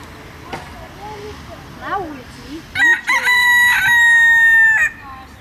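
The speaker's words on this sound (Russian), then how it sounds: "центре города гуляют петухи." Roosters crowing in a park in Torrevieja, Spain: a few soft calls and clucks come first, then a loud, drawn-out crow rings out close by before fading.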